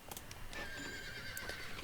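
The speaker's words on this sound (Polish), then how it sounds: "Kupiłam Andaluza. Najpiękniejszego konia w grze." An Andalusian horse whinnies in the video game Star Stable, a single short, bright neigh heard alone over faint background sound.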